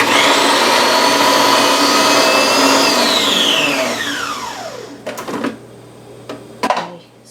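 A food processor whirs loudly as it grinds parsley to a near-liquid, its high motor drone steady and then winding down in pitch after about four seconds, followed by a few clunks and clicks from the bowl.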